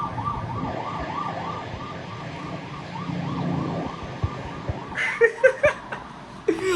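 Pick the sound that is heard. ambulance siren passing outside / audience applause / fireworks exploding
ambulance siren passing outside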